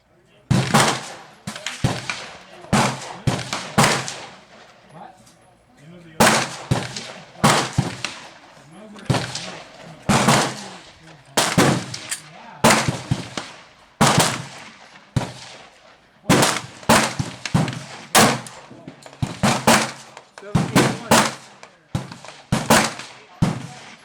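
A Colt 1911 and a Glock 30SF pistol fire a string of sharp, loud shots in quick uneven bursts with brief pauses, each report cracking close by over the whole stretch.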